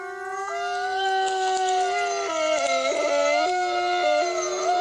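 A German Shepherd howls in long, sustained, wavering tones that rise and dip in pitch, loud and close, with no talk.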